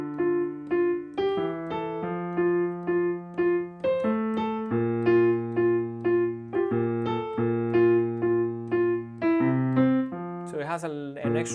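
A piano plays a song with both hands: a sustained low left-hand part moves beneath a bright right-hand melody of clear, evenly spaced notes, close and unaccompanied.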